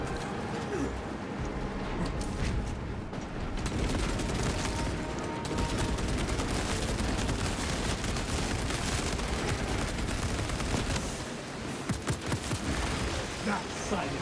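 A suppressed heavy bolter in Space Marine fires sustained bursts at Tyranid hordes in a refinery, a dense rapid rattle with scattered impacts and chaotic battle noise throughout.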